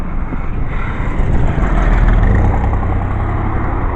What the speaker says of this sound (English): Except this morning when there's all these cars coming.